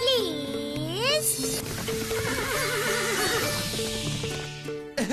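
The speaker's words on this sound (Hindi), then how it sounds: "क्या ये घोड़ा उतना उछल पाएगा?" Cartoon magic horse in a Hindi children's animated series, giving a long wavering whinny followed by galloping hoofbeats under bright music, loud and close.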